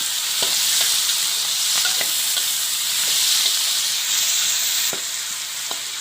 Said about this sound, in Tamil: இப்போ இதெல்லாம் சேர்த்து ஒன்றா வதக்கிடலாம்.